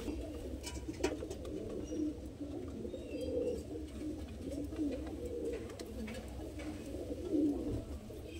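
Madrasi pigeons cooing in soft, repeated low rolling calls, fairly close, at a pigeon market, with quiet background noise.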